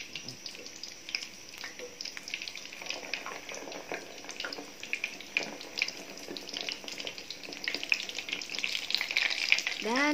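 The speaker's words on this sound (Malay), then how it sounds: "Dan kita gorenglah semua sampai habis." Tofu frying in a pan of hot oil, a continuous bright crackling sizzle with scattered pops and spatters, moderately close and building slightly toward the end, with no talk.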